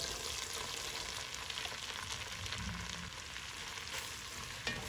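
Sliced mushrooms sizzle in hot butter and olive oil in a soup pot, a soft, even frying hiss that runs throughout with a small clink near the end.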